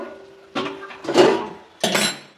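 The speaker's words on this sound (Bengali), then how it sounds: "ঢাকনাটা খুলে দেখে নেব" A metal lid lifts off a covered cooking pot of simmering potatoes and cauliflower, a few close clanks and rattles spread over about two seconds, with a faint simmer underneath.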